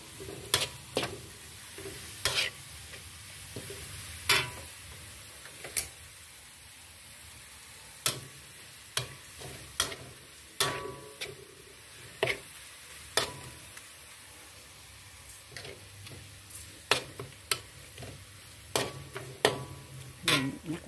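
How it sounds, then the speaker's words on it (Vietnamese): Shallots frying in a pan for Vietnamese rice porridge with offal, a soft steady sizzle broken by sharp, irregular clicks of a utensil scraping and stirring against the pan. "Phi hành gần vàng rồi nè"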